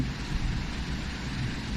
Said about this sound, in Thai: ฝนตกแรงมากเลยครับ ตอนนี้นะครับ